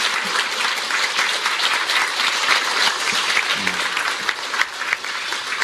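Audience at a Moon Jae-in presidential campaign press conference applauding, a dense, steady clapping from many hands throughout, loud and close, with no voices over it.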